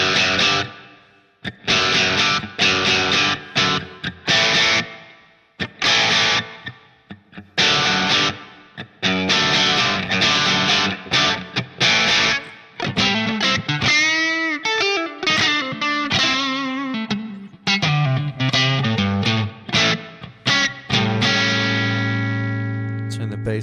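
Electric guitar played through a Line 6 Pod HD500 Plexi Lead 100 Brt amp model, a bright Marshall Super Lead 100 emulation with light reverb: distorted chords and riffs in bursts, then sustained bends and a ringing final chord.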